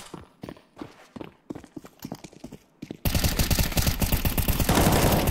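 Gunfire in Counter-Strike: a quieter run of clipped shots and footstep-like taps, then an abrupt loud, dense stretch of sustained automatic fire that fills the rest, with no voices.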